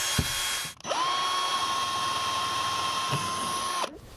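Power drill boring holes into a car's rear deck for mounting a police light bar, one sustained high whine lasting about three seconds after a short initial burst, close and steady.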